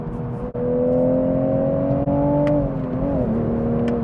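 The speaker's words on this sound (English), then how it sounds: "So I'll show you the rev matching right here." A manual Toyota Supra engine rev-matches on a downshift, a loud, steady, close droning engine note that rises and then dips as the shift blips land, with short gaps in between.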